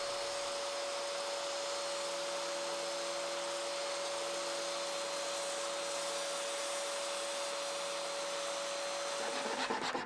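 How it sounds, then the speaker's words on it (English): A saw rips beech wood into half-inch strips with a steady, whining, high-pitched tone over a broad hiss. The sound continues evenly and stays moderately quiet, with no voices. "I'm ripping some more beech to 1/2 inch wide strips."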